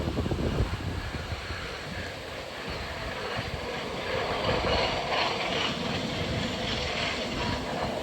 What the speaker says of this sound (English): that's the truck cleaning the rails for the train